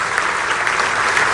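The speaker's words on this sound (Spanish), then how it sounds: "Quiero para ellos pedir un aplauso" An audience at a national history prize gala gives sustained, dense applause, a loud, steady wash of clapping from many hands with no break.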